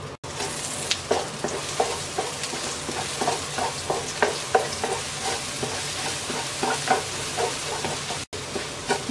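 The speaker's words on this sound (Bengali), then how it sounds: "এবার ডিমটা ঝুরি ভাজা করে নেব।" Beaten egg with black pepper scrambles and fries in a tablespoon of oil in a wok, a steady crackling sizzle broken by repeated scraping and stirring strokes of a spatula, close and moderately loud.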